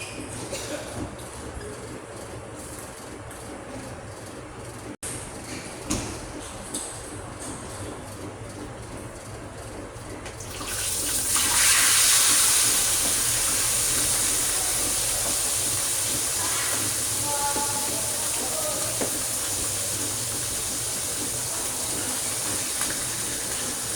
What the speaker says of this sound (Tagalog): Tapos ngayon, ipiprito na natin to.